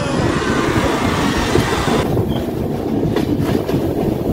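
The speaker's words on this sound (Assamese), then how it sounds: "আমাৰ এইপিনে ৰেলগাড়ীখন এনেকৈ চলে" A train rolls steadily past, loud rumbling and rhythmic clacking of wheels on rails, with a hiss that drops away halfway through as the carriages keep rattling.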